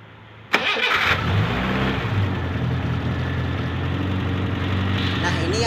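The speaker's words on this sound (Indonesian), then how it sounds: "kita akan coba start mobil ini dan kita lihat coba kerjanya" An old car engine cranks and catches with a sharp start, then settles into a steady, close running idle that holds to the end, with faint talk over it.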